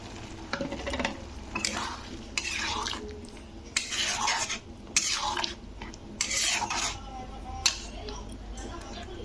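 A cashew and melon seed paste being stirred into a curry with a spoon, giving intermittent bursts of scraping and clatter against the pot over a soft background sizzle, close by.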